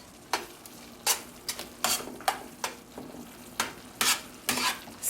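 Ginger fries in a pan for a chickpea curry, a close sizzle broken by about a dozen rhythmic scraping stirs, with no talking over it.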